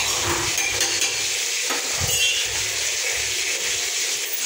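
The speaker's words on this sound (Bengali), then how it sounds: "একদিকে মাছ ভাজা বসিয়ে দিয়েছি।" Fish fries in a pan in a home kitchen, giving a dense, loud, continuous sizzle with a few low knocks and clatters of cookware underneath.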